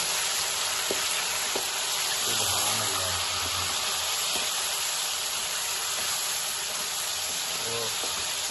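Steady, bright sizzling of chicken frying with onions in a pan for biryani, a continuous hiss with faint stirring scrapes, close and alone without talk.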